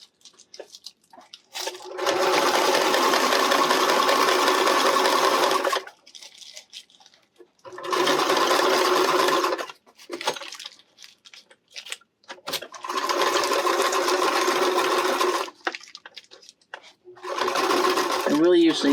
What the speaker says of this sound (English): I will usually just sew over the end here to stitch that down